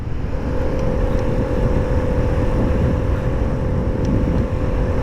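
A Piaggio Vespa SXL scooter cruises along a highway, its engine drone and wind rush forming a loud, steady roar that holds without a break.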